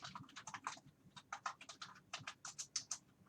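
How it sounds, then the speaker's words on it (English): Someone typing an email on a computer keyboard, a quick, close run of light clicking keystrokes in uneven bursts, fairly quiet with no talking. "and then you type their email."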